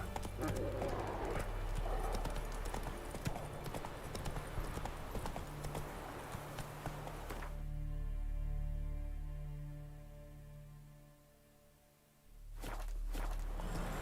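A horse gallops in The Witcher 3, steady rhythmic clip-clop hoofbeats close and loud, with a brief lull before the hooves pick up again and occasional short spoken commands.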